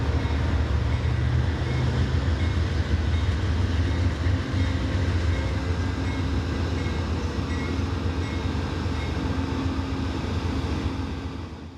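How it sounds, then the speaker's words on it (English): Westbound Capital Limited passenger train arriving at Cumberland, Maryland, a continuous loud rumble of wheels on rail with steady low roar throughout, fading slightly at the end. "We returned to Cumberland just in time to catch the arrival of the westbound Capital Limited."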